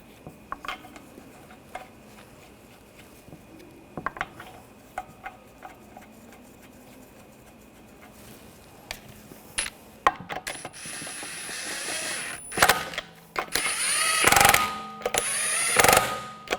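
Lug nuts being run onto a Buick Encore rear wheel: faint clicks and light metallic rattles, then louder ratcheting and tool whirs toward the end, with no talking.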